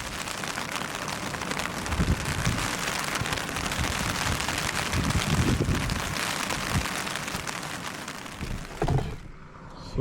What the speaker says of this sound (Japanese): 外は冷たい雨が降ってます。